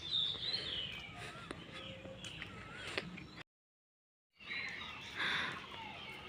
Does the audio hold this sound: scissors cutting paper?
no